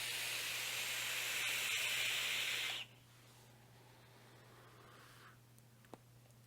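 A Wotofo dual core fused Clapton vape coil fires at 100 watts with the airflow two-thirds open, giving a loud close hiss for about three seconds that drops to a faint sizzle, with one small pop near the end.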